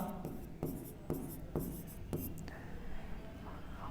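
Chalk or marker writing on a classroom board during a coordinate geometry lesson comes as a series of short scratchy strokes at a steady pace, close and clear, with brief quiet voice sounds in between.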